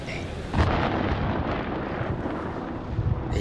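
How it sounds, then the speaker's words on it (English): Thunder from a storm in the video game Man of Medan rolls as a deep, loud rumble, a sharper crack near the start and a sustained low roar alongside wind-like noise, no voices. "Storm's 8 miles away."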